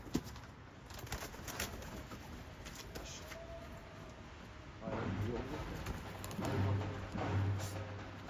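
Trained pigeons cooing in Adana, Turkey, soft low coos that grow clearer toward the end, under someone talking briefly and steady background noise.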